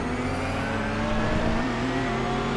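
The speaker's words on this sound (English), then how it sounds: "As we once again hit the downshifts" A GT3 race car in the iRacing sim holds a loud, continuous engine drone through downshifts, with steady tonal harmonics and no voices.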